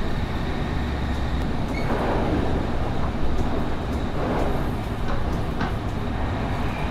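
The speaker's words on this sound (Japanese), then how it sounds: "はい、宇都宮駅を通過しております。" An E5 series Tohoku Shinkansen Hayabusa heard from inside the carriage as it passes through Utsunomiya Station, a steady loud rumbling roar of wheels and running noise with faint rhythmic clunks and no speech.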